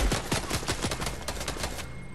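Rapid gunfire rattles in a Fortnite firefight, a dense burst of loud, close shots in quick succession that cuts off abruptly near the end, with no talk over it.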